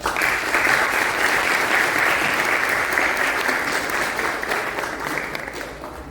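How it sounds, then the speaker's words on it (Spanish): Loud, sustained applause from a seated audience welcoming a doctor as he comes up to speak at an event on studying law in Peru, a steady dense clapping that fades slightly toward the end. "Un aplauso para el doctor."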